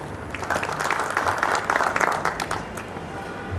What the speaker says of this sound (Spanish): doctor Ricardo Racilla Robeño, para quien estimamos un fuerte aplauso.